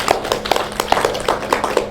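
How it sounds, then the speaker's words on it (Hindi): An audience at a Swami Ramdev yoga session claps loudly. The sharp, fairly even hand claps repeat steadily and close together for about two seconds, with no talking over them. "इंडिया टीवी के लिए जोरदार ताली बजा दो"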